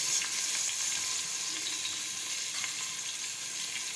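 Chopped tomatoes, along with chili and ginger, sizzling and frying in a hot pan for a home-style vegetable dish, a steady close crackle with faint stirring and no talking.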